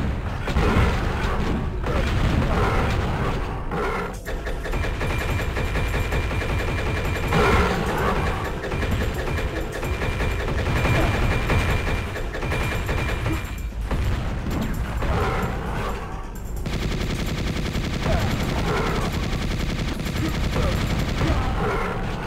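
Gunfire in the video game Chasm: The Rift during a Sphinx boss fight, with continuous rapid shooting, booms and mechanical game effects mixed with music.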